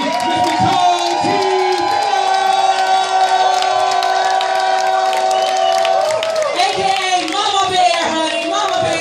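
A crowd at an evening charity party cheers, whoops and shouts for a performer, loud and sustained, with a voice calling out over the noise.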